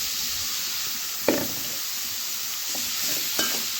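Snake gourd stirred and sautéed in a hot pan: a constant bright sizzle with a few sharp scrapes and knocks of a spoon against the pan, close and clear, no talking.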